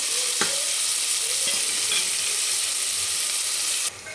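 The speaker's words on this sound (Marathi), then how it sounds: "तर हा कांदा आपला छान एकदम सोनेरी कलरवर परतून घेतला आहे" Onions frying in a pan until golden for a dhaba-style egg curry, a steady bright sizzle filling the whole stretch with a couple of faint stirring clicks, close and alone until it drops off at the end.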